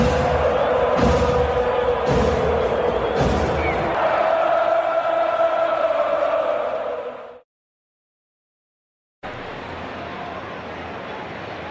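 A baseball stadium crowd at a Braves–Padres game roars loudly and steadily with a few heavy thumps, then cuts to silence before a quieter crowd murmur returns.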